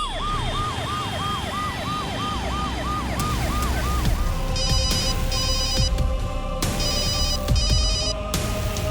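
In a crime drama scene, a phone rings unanswered in two bright electronic bursts after a rising and falling siren-like warble, loud and close, with no voices.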